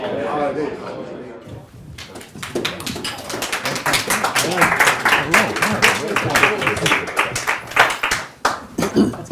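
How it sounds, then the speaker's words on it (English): An audience at an evening talk event breaks into sustained applause for the speakers, a dense, loud, rapid patter of many hands clapping that builds after a moment of speech and carries on for several seconds with voices underneath. "I was going to measure the applause for me versus for Steve"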